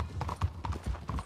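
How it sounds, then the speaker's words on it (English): Horse hooves clip-clop in rhythmic pairs of beats in the video game Red Dead Redemption 2, close and fairly loud, with no talk over them. "Just get on his horse."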